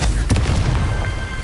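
Confringo spell blast in the video game Hogwarts Legacy: a single loud, close fiery boom with a broad crackling burst that decays over about a second.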